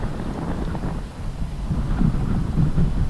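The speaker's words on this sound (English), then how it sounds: "Really, really windy." Strong wind buffets the microphone outdoors in a windstorm, a low rumbling roar with uneven gusts and no speech.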